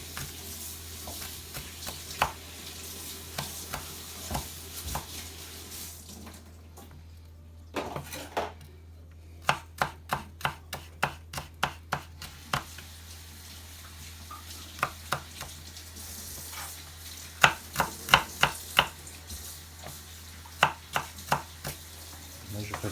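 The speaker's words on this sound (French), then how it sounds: "Moi, je préfère que ce soit bien émincé les oignons." A sharp kitchen knife chops onions finely on a board for a creamy curry mussel dish, giving a run of crisp, close taps in quick bursts separated by short pauses.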